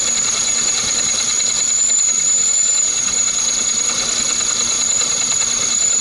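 A steady high-pitched drill whine as the bit grinds through rusted metal, loud and close, continuous without breaks.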